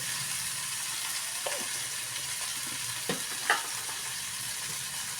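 Sliced onions fry in a pan for prawn curry, giving a steady close sizzle with a couple of faint utensil clinks.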